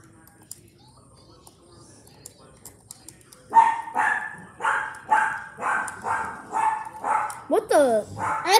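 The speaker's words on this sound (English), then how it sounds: "What you barking at," A dog barks repeatedly, sharp loud barks in a steady series, with a whimpering yelp near the end and faint sounds before it starts.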